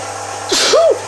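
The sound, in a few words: sneeze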